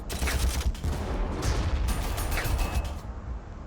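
Explosions and rapid belly-gun fire in the strategy game Warhammer 40,000: Armageddon, a loud continuous rumbling barrage of shots and booms with no pauses.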